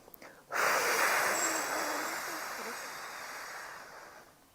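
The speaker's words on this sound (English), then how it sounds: "Breathe in. Blow out from the mouth." A single long breath blown out through the mouth during a guided breathing exercise, a loud airy rush that starts abruptly after a short quiet intake and slowly fades over several seconds, with no talk over it.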